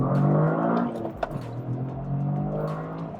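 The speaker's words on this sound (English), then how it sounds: "Let's just give it some revs, drop the clutch." A manual all-wheel-drive 2023 Toyota GR Corolla Circuit Edition revs and launches off the clutch, the engine dipping briefly then pulling up through the revs, heard from inside the cabin at moderate volume.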